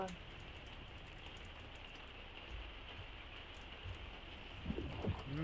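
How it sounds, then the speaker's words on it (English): Heavy rain falls steadily in the New World game, a dense, even hiss with occasional soft drops, while a voice talks briefly near the end. "Heavy rain."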